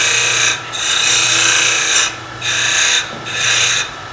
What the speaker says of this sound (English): Scraping.